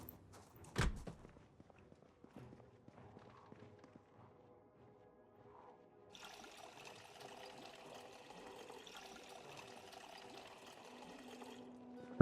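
Water fills up in a zombie survival video game: a faint thunk and soft footsteps give way to a steady, quiet pouring hiss that runs to the end.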